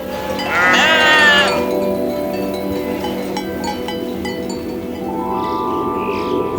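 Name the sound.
flock of ewes bleating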